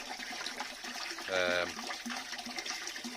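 Water running into a koi carp aquarium tank, a steady filling wash with a brief louder gurgling surge midway, fairly close and without talk.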